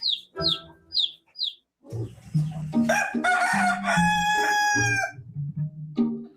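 An Ayam Cemani rooster crows loudly and close by in a long, drawn-out call, after a run of quick, high chirps from other birds.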